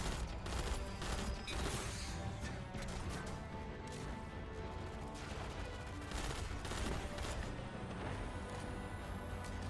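Rapid continuous gunfire in a Destiny Grandmaster Nightfall mission while turrets are shot down, a dense, loud unbroken clatter of shots with occasional heavier impacts throughout.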